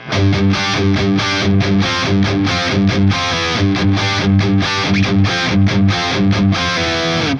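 A heavy, distorted electric guitar tuned down a whole step plays a riff, chugging in a steady, driving rhythm with low, thick palm-muted notes and short pauses, loud and close.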